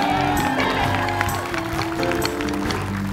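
Studio audience applause for team Mantan Terindah on a comedy game show, crowd clapping and cheering mixed under loud background music with sustained tones, continuous and busy.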